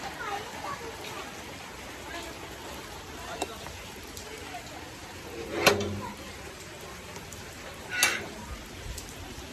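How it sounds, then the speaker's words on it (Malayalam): Rain falls in a soft, steady hiss, fairly distant, broken by a couple of brief sharp clatters. "നല്ല മഴ ഉണ്ട് കേട്ടോ"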